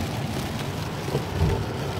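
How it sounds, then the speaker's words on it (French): Rain falls steadily on a road trip through the arid Nevada desert, heard as a constant close hiss with faint low rumbling beneath and no voices. "Il pleut, c'est terminé."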